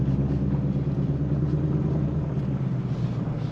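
Shelby GT500 driving on a test drive, a steady low engine rumble heard from inside the car, constant and fairly loud with no speech.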